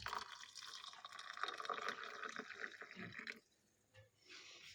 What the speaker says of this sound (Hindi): अब मैं इसमें डालूंगी गर्म पानी